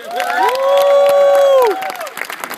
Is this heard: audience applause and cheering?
yes